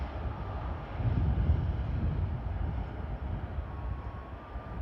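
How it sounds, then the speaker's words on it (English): Steady wind rumbles and buffets the microphone at Paris Charles de Gaulle Airport, a low broadband roar that swells slightly in the first seconds and continues without a break. "as you guys can hear, it's pretty windy."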